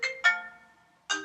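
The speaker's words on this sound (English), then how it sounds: "My phone would go off, and I could have sworn I put it on silent" A phone ringtone goes off indoors: two short bright tonal bursts, the second trailing into a sustained ring, then a third burst after a pause, fairly loud and with no talking.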